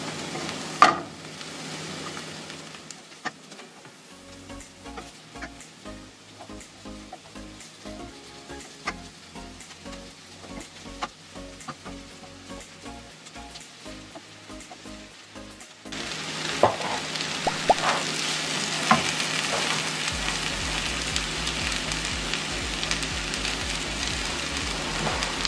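Seitan pieces fry in oil with curry powder for a Jamaican vegan curry, a continuous crackling sizzle with scattered pops that jumps noticeably louder and denser partway through.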